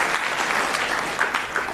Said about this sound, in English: please give those people a big round of applause